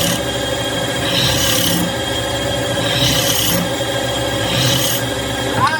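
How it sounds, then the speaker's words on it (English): A spindle gouge trues up the end of a spinning cherry wood blank on a lathe, giving a steady, close scraping rasp with a few stronger cutting surges, and no talking. "So we're gonna get this, the spindle gouge, and we're gonna true up this end."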